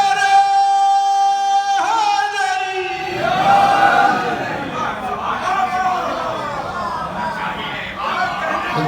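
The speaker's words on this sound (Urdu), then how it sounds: "یا علی کے نعرے لگا رہے ہیں" Audience at a religious gathering (majlis) loudly chanting the slogan Ya Ali, a dense crowd of voices rising together after a few seconds of sustained tone, continuing steadily throughout.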